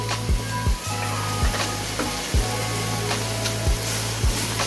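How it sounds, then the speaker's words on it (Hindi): Beef mince with yogurt fries in a karahi, a steady sizzle broken by regular scraping strokes of a spoon against the pan. "अब इसे अच्छी तरह से भूनना शुरू कर देंगे। मैं इसमें थोड़ा सा दही ऐड करता हूँ।"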